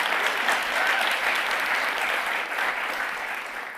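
An audience at a generative AI accelerator demo day gives a round of applause, a dense, even roar of many hands clapping that stays steady before easing off slightly near the end.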